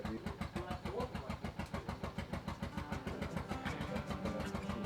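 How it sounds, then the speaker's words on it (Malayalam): A power generator runs steadily during a power cut, its engine thudding in a fast regular pulse that holds close and fairly loud throughout. "ജനറേറ്റർ അടിക്കുന്ന സൗണ്ടാ സഹിക്കാൻ പറ്റുന്നത്"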